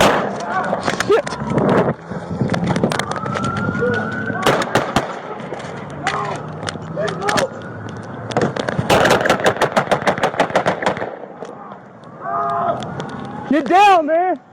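Gunfire in a police shooting in Las Vegas, rapid loud bursts of shots amid shouting voices and radio chatter, followed by a wailing siren near the end.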